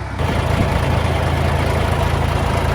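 Hino FG8J truck fitted with a 5-ton crane, its diesel engine idling steadily up close with a deep, even low rumble and no talk over it.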